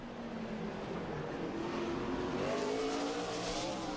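NASCAR Busch Series race cars at speed on track, a steady distant engine roar with rising tones as the pack passes, heard alone without commentary.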